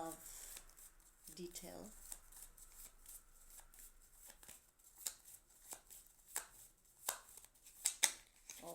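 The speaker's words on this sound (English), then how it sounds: "I decided to shuffle the cards in front of you" Tarot cards being shuffled by hand, soft repeated riffling and slapping bursts that grow sharper toward the end, heard close under quiet talk.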